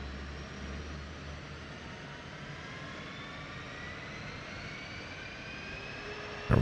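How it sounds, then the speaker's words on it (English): F-15E jet engine spooling up in the DCS World flight simulator, a steady broadband roar with rising turbine whine climbing in pitch throughout, loud and continuous, ending in a sudden burst at the close. "Now we've got a good engine start on the right."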